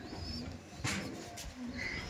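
Madrasi pigeons coo softly in a loft, with a few low, throaty coos and some brief chirps over a faint, steady background.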